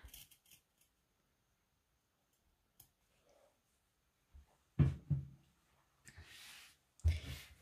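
Scissors snip fabric corners close to the stitching of a sewing project, a few short, crisp cuts separated by silent gaps, quiet and close.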